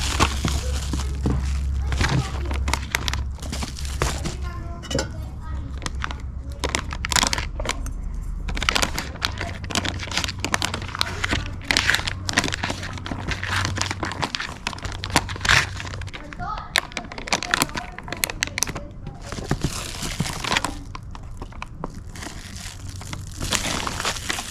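Crinkly rustling and crunching of a foil pouch as a rehydrated chipotle Alfredo pasta backpacking meal is stirred, steady close scraping and crackling throughout with faint voice and background noise.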